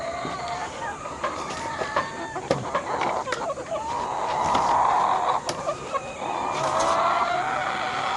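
Several chickens, one of them sick, cluck and squawk close by, with short, overlapping calls, one louder drawn-out cry, and a steady faint background hum.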